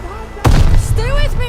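Grenade explosion in the World War II shooter Call of Duty Vanguard, a single loud close blast with a rumbling tail, and a voice shouting over the aftermath.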